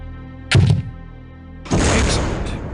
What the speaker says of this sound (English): Now, destroy the target with a grenade.